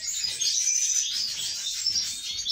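Caged pet finches, siskins and canaries, sing nonstop in fast high trilling and twittering phrases, close by, with a faint low rumble underneath.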